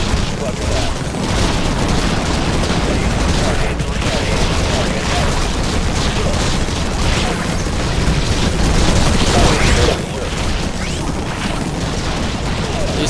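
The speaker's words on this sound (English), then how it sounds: "These turrets have a bit of a crappy range." Turrets fire nonstop in the video game Infested Planet, making a loud, dense wall of booming gunfire and explosions that barely lets up.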